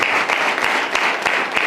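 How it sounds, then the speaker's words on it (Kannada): A church congregation at a Sunday service claps loudly together, a dense, steady burst of many hands with sharper individual claps standing out, close and continuous. "ಜೋರಾಗಿ ಚಪ್ಪಾಳೆ ತಟ್ಟೆ"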